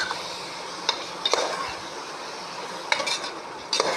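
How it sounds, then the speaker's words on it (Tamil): Mushrooms sautéed with chili powder and garam masala for a mushroom biryani give off a steady, soft sizzle, broken by a few sharp spatula scrapes against the pan. "இப்போது ரொம்ப வதக்க வேணாம் காளானை"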